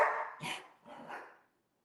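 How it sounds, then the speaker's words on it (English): A young dog gives a couple of short, soft barks or yips, close and fairly quiet, with brief gaps between them before silence. "y'all almost heard Danny's first bark"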